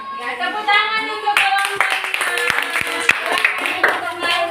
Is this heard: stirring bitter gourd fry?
no